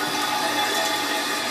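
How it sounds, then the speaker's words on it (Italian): Water added to a shaving brush during wet shaving, a short burst of splashing, trickling noise, loud and close. "Gli metto un altro po' di acqua"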